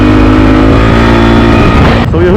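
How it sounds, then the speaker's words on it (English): A Honda CRF450L motorcycle engine revs loudly up close, its pitch climbing as the RPMs rise, then dropping off sharply near the end before picking up again. "So you heard the RPMs increase"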